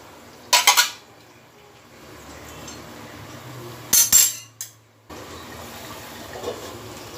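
A metal lid clanks onto a pot of boiling egg curry with potatoes, giving a couple of bright close clinks and rattles over a low background of bubbling.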